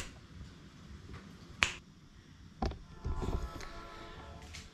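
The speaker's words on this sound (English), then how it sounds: "Now I'm just gonna snap my fingers." A few sharp finger snaps ring out in a quiet garage, with a couple of softer clicks and some faint shuffling between them.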